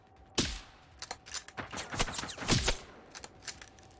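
Gunfire in the video game Generation Zero comes in scattered bursts, with one sharp, loud shot followed by clusters of rapid cracks and quicker rattling volleys, fairly close against a quiet background.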